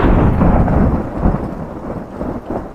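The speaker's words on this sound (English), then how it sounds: "That wasn't the usual thunderclap" A thunderclap sound effect, a loud, close rumbling roar that slowly fades over a few seconds with a rain-like hiss, and no voices.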